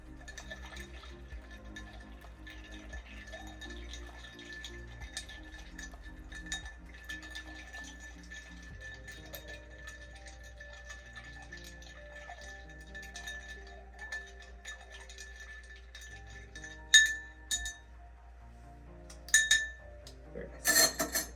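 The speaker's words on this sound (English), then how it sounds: "I'm going to stir it for roughly 30 seconds." Ice clinking and rattling as a Manhattan cocktail is stirred in a mixing glass, a steady soft jingle running for about twenty seconds with a few sharper clinks near the end.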